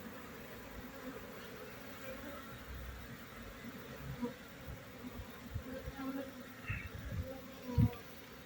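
Honey bees buzz in a dense, steady drone around hives carrying pollen, outdoors with faint scattered closer flybys and nobody talking.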